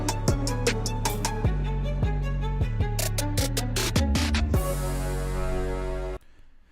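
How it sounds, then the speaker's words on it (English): A short music sting for a TV scene, a little button hit, comes after a run of punchy rhythmic beat hits over deep sustained bass. A final bright cymbal-like hit rings out, then cuts off abruptly into near silence. "a sting is basically a little button, a little hit that ends the scene"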